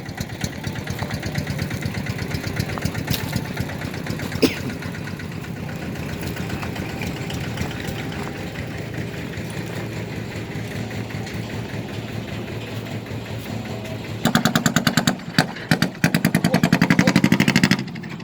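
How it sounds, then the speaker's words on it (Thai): A Ford vehicle's engine idles steadily near a sugarcane loading area, a continuous mid-pitched rumble throughout, turning rougher and more rapidly pulsing toward the end. "เดี๋ยวบอกครูเอให้ดับเครื่องรถฟอร์ดก่อน"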